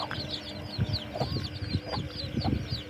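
Chicks on a poultry farm being fed idli cluck and peep steadily, with many small overlapping calls close by and no voices.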